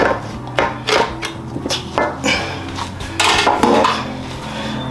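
Spatula scraping mashed sweet potato out of a bowl for Jamaican sweet potato pudding, a series of close, loud scrapes and knocks against the bowl in an irregular rhythm.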